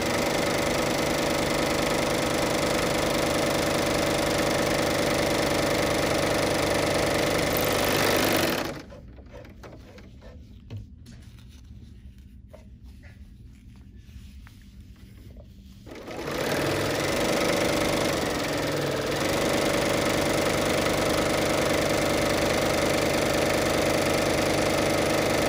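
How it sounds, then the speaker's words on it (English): A Bernina L 850 overlocker sewing a three-thread overlock stitch runs at a fast, steady whir, stops for several seconds of near silence, then starts up again and keeps running. "I'm just going to do the 3-thread overlock stitch down the side of this piece"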